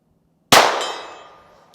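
Bullet from a suppressed Glock G44 pistol striking a steel target at a range, heard as a single bright metallic clang that rings and fades over about a second, with a small tick at the end.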